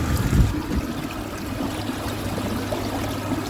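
River water streaming and trickling steadily past a boat during a ride on a clear, pristine river, a continuous close wash with a brief louder splash near the start and no talk.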